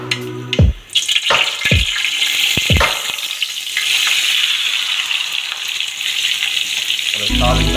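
Onion sizzles steadily in a hot pan with sea prawns, a bright continuous frying hiss that follows a few brief clatters of utensils at the start.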